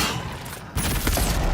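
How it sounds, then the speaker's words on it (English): Gunshots in the Avowed video game, two or three sharp loud bangs in quick succession with a heavy boom and ringing tail, close and alone without talk. "each one of these shots staggers it quite a bit"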